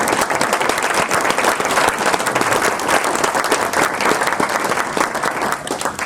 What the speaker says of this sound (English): Let's give a round of applause for Amanda today.